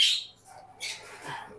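Pet ringneck parakeets and cockatiels give a few quick, shrill chirps and squawks at close range, spaced with short gaps.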